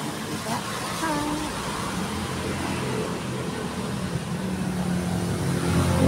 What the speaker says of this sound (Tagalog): Madami na naman ang sasakyan.